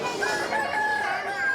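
A rooster crows in a crowing contest at Son Servera, Mallorca, giving one long, loud, close cock-a-doodle-doo call that stretches across the moment with no voices over it.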